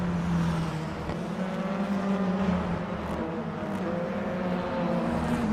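Touring race cars launching together at the start at the Hungaroring, a dense, loud roar of many engines revving and droning at once, steady with rising and falling tones as the pack pulls away.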